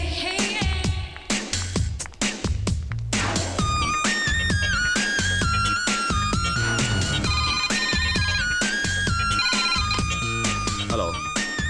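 A mobile phone ringtone plays loudly as a bright, melodic electronic tune with a thumping beat, repeating musical phrases for several seconds without talk over it.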